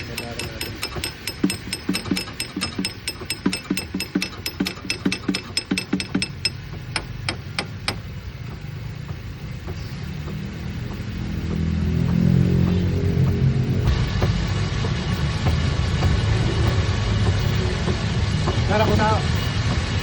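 A small engine-driven water pump cranks with a quick run of sharp rhythmic clicks, then catches and settles into a loud, steady, rough running drone that carries on to the end.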